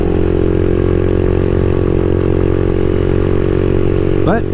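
A CSC SG250 motorcycle fitted with a MotoCult Stage 4 engine runs steadily and loudly while being ridden, its constant droning tone holding throughout before a quick rising whine near the end.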